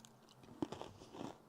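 Someone chewing a biscuit up close, a short burst of crunchy bites and mouth sounds, fairly quiet with no talking.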